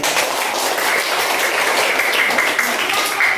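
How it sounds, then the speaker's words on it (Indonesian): Classroom applause for a student group after their presentation, a steady wash of many hands clapping continuously at close range, with no talk over it. "Jadi mari kita berikan aplaus untuk kelompok 3"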